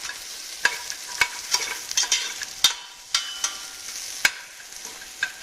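Onions frying and browning in a pan for a turkey sauté, a soft continuous sizzle punctuated by sharp spatula scrapes and taps every half second or so, close by and with no voices.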